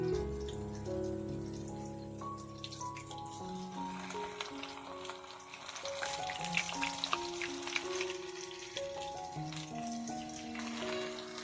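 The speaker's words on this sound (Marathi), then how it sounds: "हे खोबरेल तेल घेऊन आज आम्ही भजी बनवणार आहोत इकडे तेल पण आपलं व्यवस्थित असं तापलेलं आहे आता आम्ही भजी सोडूया" Bhaji fritters fry in hot coconut oil during village cooking, a steady crackling bubble with dripping pops running throughout while melodic tones play over it.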